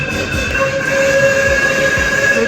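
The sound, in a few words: train standing before departure, noise and horn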